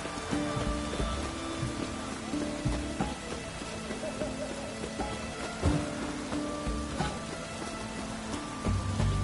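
Steady rain falls continuously, a dense broadband patter with scattered louder drops and faint low rumbles throughout, fairly close and even in level.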